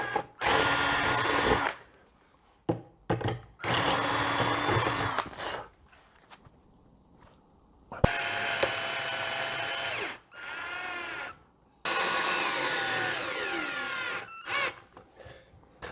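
A power drill drives screws into a camper van conversion panel, several loud whirring bursts of a few seconds each separated by pauses, with short blips and handling noise in between.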